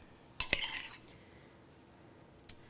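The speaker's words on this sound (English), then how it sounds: "when you have to take a few swipes to get down to the bottom of the bowl" A spoon scraping caramel batter from the bottom of a mixing bowl, two quick sharp clinks and a short scrape, then near silence before one faint tap at the end.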